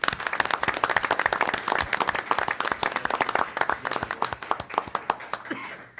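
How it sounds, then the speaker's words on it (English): Applause for award winners at a town council meeting in a room, a small crowd clapping in distinct, fairly sparse claps that thin out toward the end. "So if we could give everyone a round of applause."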